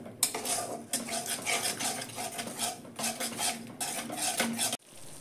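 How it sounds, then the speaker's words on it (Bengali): Whisked sour yogurt stirred and sautéed in a pan for a ridge-gourd peel dish, with continuous metal utensil scraping and clinking against the pan, steady and close, stopping abruptly near the end. "টক দইটা দিয়ে একটু কষে নেব।"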